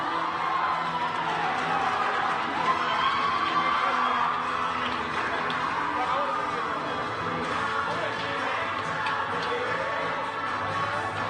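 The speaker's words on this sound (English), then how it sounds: "a rousing applause here for the cheerleading team" A crowd at a high school basketball game cheers and applauds the cheerleading team's halftime performance, a dense sustained wash of clapping, whoops and shouts at steady loudness, with announcer speech partly over it.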